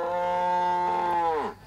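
A single long cow moo, steady and resonant for over a second before dropping in pitch and trailing off, heard alone and fairly close.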